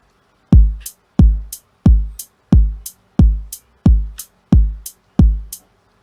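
Programmed in music software, a hip hop beat pairs deep kick thumps with crisp hi-hat ticks landing on each upbeat between them, eight even repetitions, clean and loud with no talking.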